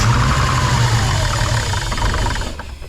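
A Nissan Skyline R33 engine cranks over on the starter with the spark plugs removed. It makes a loud, steady mechanical whir that runs throughout and fades slightly at the end.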